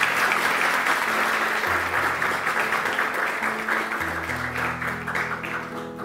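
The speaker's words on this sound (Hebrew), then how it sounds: "תנו לו כפיים לילד הזה" An audience applauds a boy with steady, dense clapping that fades slightly toward the end, while low tones play faintly underneath.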